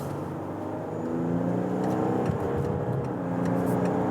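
A Volkswagen Touareg R-Line SUV in S mode accelerates on a motorway from 60 to 100, its engine note rising in a steady, sustained drone heard from inside the cabin, with no talk.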